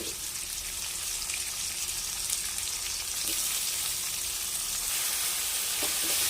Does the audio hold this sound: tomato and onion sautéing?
yes